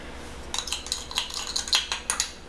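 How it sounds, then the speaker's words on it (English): Flour and sugar are mixed together in a bowl, a quick series of close metallic clinks and scrapes from a utensil against the bowl over a low background hum. "And I'm going to mix it together real quick."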